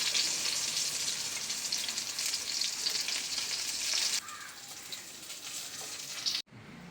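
Loud, steady crackling sizzle of Kerala-style pepper fish frying in hot oil, continuous and close, easing slightly in level partway through before a brief cut.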